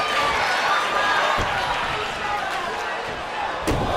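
Thudding body hits in the wrestling game Def Jam with Capone-N-Noreaga against Wu-Tang Clan, two sharp impacts over a constant crowd roar, with commentary talk running throughout.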